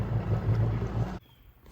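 A Seadoo GTI jet ski engine idles with a steady, close low rumble and pulsing hum, then cuts off abruptly into near silence.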